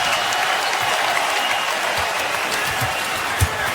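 Basketball arena crowd at a New York Knicks versus Cleveland Cavaliers game cheering and applauding in a steady, dense roar that holds throughout, with a few sharper claps and shouts poking through near the end.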